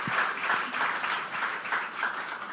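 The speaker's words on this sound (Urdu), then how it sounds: "زوردار تالیاں بجا دیں یسوع کے جلال کے" Congregation applauding at a church service, a dense steady patter of many hands clapping throughout, moderately loud, with no talk.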